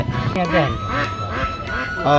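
A cluster of Chinese goose goslings honk and peep nearby at a village market, overlapping calls repeating rapidly in a busy, noisy setting.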